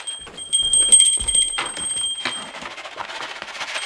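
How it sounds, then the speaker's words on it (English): A small brass Cobra bell rings with bright, sustained high tones, jingling repeatedly near the listener before fading into rustling, used outdoors at feeding time for feral cats. "I got my old little Cobra bell. I'm gonna start ringing this"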